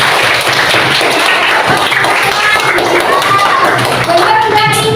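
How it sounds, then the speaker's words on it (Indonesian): A classroom of students claps for a classmate, a dense, steady patter of many hands that runs throughout, with a murmur of voices mixed underneath. "tepuk tangan buat Yudi"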